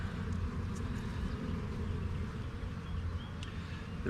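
A steady, dense insect buzz hums continuously at moderate volume, like many bees close by, with no voices.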